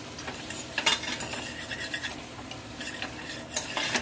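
Onions cooking in a pan while being stirred with a utensil, giving light clinks and scrapes over a soft, steady sizzle, close and moderately quiet with no talking.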